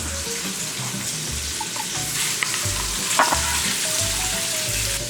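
Chicken pieces deep-frying in hot oil make a steady, close hiss and crackle throughout, with small pops and a faint clink partway through; no one speaks.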